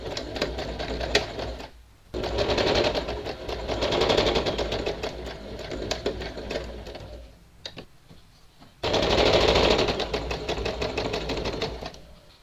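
A sewing machine stitches the back fabric of a halterneck blouse in bursts of rapid, loud clatter, stopping briefly twice before starting up again.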